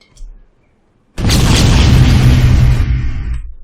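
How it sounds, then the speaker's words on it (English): Grenade explosion in an Unreal Engine game, a sudden loud booming blast that breaks in after a brief quiet moment and rumbles heavily for about two seconds before cutting off. "But grenade."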